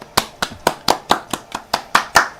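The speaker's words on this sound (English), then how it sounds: "For that, you get a round of applause" About ten sharp, evenly spaced hand claps ring out close and clear at a Halloween quiz night, with no talk over them.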